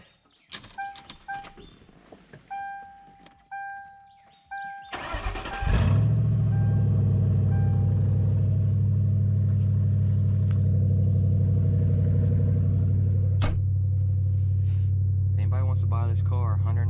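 A Mercury Grand Marquis 4.6 V8 with a muffler delete cranks and fires, settling into a loud, steady, deep droning idle after a few seconds of clicks, chimes and shuffling, with a brief louder blip near the end.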